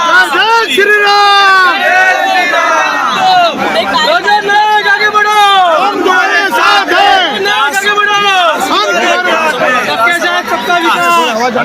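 Thousands of people celebrate an election win, a dense crowd roaring, whooping and chanting loudly and continuously throughout, with overlapping voices forming a sustained festive din.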